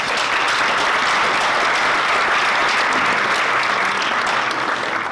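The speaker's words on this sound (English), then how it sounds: "let's give everyone a nice round of applause" Dense, steady audience applause for poetry performers at a school recitation competition, loud and continuous from start to finish with no voices standing out.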